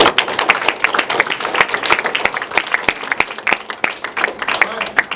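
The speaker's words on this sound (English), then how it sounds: "give him a round of applause" An audience at a training briefing claps, a scattered burst of sharp hand claps with uneven rhythm that stays close and loud, with people talking underneath.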